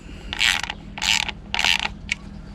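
An OEM-style sport side mirror on a Can-Am Maverick X3 being adjusted, giving three short bursts of ratcheting clicks and then a brief final click, close and crisp with no talking.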